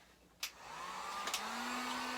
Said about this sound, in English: I'm just going to set my frame down over here and turn my blow dryer or my heat gun on.